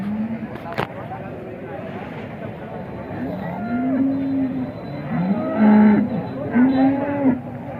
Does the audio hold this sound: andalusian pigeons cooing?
no